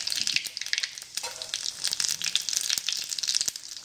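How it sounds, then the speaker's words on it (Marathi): Mustard and cumin seeds crackle and sizzle in hot oil for a tempering, a steady close hiss with scattered sharp pops throughout. "तेल आता तापलेलं आहे, त्याच्यात थोडीशी मोहरी"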